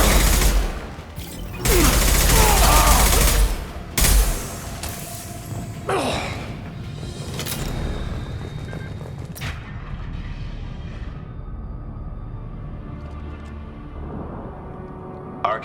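A firefight in Mass Effect 2, with loud, dense bursts of gunfire and heavy booming blasts packed into the first ten seconds, then easing into quieter scattered shots and rumble.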